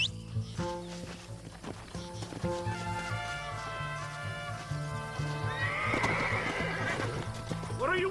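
Horse in the Red Dead Redemption video game, with hooves clip-clopping in a steady rhythm under a game music bed. Loud whinnies cut through partway along, and the hoofbeats grow busier toward the end.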